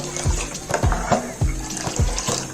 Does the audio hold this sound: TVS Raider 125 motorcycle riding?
no